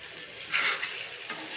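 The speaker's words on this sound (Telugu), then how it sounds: "మధ్యలో ఇలా తిప్పుకుంటూ ఉంటే మనకి ముక్కలు మొత్తం కూడా బాగా ఎర్రగా ఫ్రై అయిపోతాయి" Pieces of food fry in a pan while being stirred, giving a continuous close sizzle with a brief louder scrape of stirring partway through.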